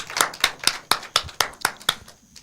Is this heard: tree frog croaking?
no